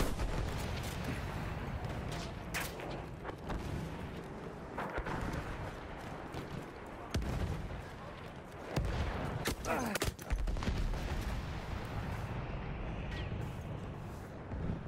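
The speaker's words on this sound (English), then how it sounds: "Where did that shot come from?" Gunfire and distant battle noise in the video game Battlefield 1, scattered sharp shots and rumbling blasts over a continuous loud din, with a voice talking at times.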